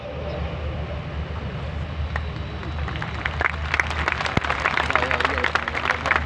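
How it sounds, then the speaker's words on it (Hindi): Applause from a large audience at an Islamic lecture event rises after a few seconds into thick, sustained clapping, loud and close, with a voice speaking underneath. "आपने ताली बजा दिए"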